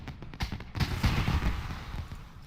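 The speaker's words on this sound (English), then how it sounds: "Video game fireworks." Video game fireworks in World of Warcraft Classic pop and crackle in a quick cluster of soft bursts, close and moderately loud, with no talking.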